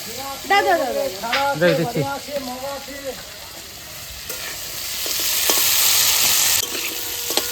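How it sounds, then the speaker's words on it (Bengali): Potatoes fry in a pan. A voice speaks briefly first, then a loud, close sizzle swells into a rushing hiss for a couple of seconds before settling into quieter crackling. "আমার আলু ভাজা ভাজা হয়ে গেছে এবারে আমি মশলাটা দিয়ে দেবো"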